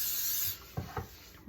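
A can of non-stick cooking spray hisses in a steady burst for about half a second, followed by a couple of soft thuds and rubbing sounds as a pan is handled for dinner rolls.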